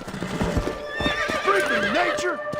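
Hooves clop rapidly and a horse neighs loudly with a wavering whinny in Red Dead Redemption: Undead Nightmare, over a busy game soundscape.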